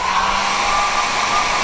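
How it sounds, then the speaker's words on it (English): A hair dryer blows hot air onto a super-glued car part, a steady, loud, close whooshing hum with a faint whine, running continuously without speech. "Then heat it up with hair dryer another 30 seconds."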